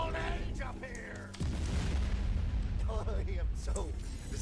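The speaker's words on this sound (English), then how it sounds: "So this is the dragon cannon." Dragon cannon fired in the video game Tiny Tina's Wonderlands, a sudden loud deep boom with a sustained rumbling roar afterward, heard under talking voices.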